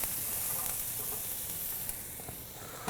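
Jamaican jerk chicken sizzles on a grill with a steady, faint hissing crackle and a few small pops, without any voices.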